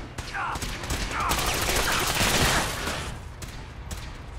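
Rapid gunfire rattles in dense bursts during a Fallout 4 firefight, loud and close, with several sharp shots and distant blasts running together over about four seconds.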